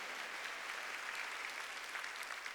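Steady clapping from a church congregation during a Sunday worship sermon, a dense, continuous patter heard fairly faint and distant with no voice over it.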